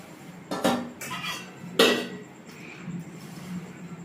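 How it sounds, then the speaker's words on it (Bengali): Utensil clinking and scraping in a bowl while egg paratha dough ingredients with salt and oil are mixed in a village kitchen, a few sharp knocks then softer rubbing, close and moderately quiet. "ভালো করে এটা মিশিয়ে নেব।"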